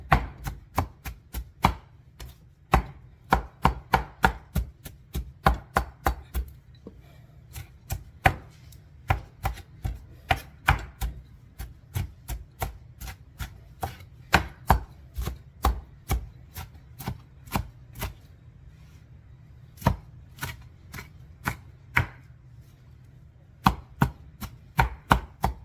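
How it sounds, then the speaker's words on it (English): A knife chops Italian sandwich ingredients on a cutting board in quick, sharp, close taps, bursts of steady chopping broken by short pauses, with no voices. "Just chop it and keep chopping it till it get to where it's all kind of blended in."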